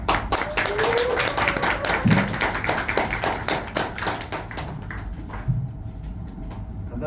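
A small audience at a book talk and launch event claps to welcome a speaker. The quick, dense handclaps are close by, then thin out and fade over the last couple of seconds.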